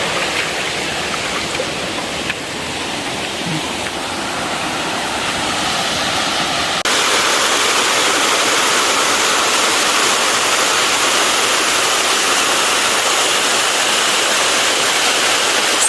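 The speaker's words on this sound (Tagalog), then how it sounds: "Maganda yung daloy ng tubig ngayon." A strong mountain stream, swollen after a typhoon, rushes past as a dense, continuous roar of water, close and loud, growing slightly fuller partway through.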